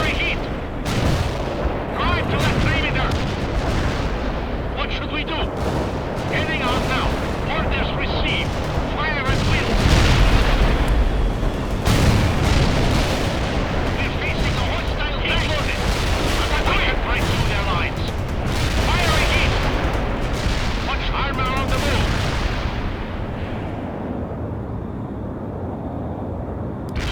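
Artillery in the video game World in Conflict fires in repeated heavy booms and sharp gunfire bursts, with scattered blasts rolling across a steady battle din while voices speak over the combat.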